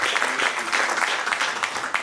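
Congregation at a Sunday church service in Nantes giving a lively round of applause as an offering of acclamation to God, steady, dense clapping filling the room without talk.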